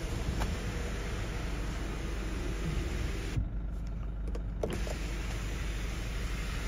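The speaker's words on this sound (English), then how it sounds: "Sunroof, let's try that." Electric sunroof on a 2019 Nissan Navara 2.3 dCi N-Guard pickup opens with a soft, steady motor whir over a quiet cabin hum, close and fairly faint, without speech.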